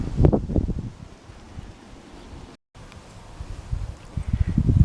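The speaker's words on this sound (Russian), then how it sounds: "Видим, как метает ветер." Strong hot wind blows through a paulownia tree in Crimea in August heat, with gusty rustling and buffeting microphone rumble that rises and falls, louder at the start and end around a brief dropout.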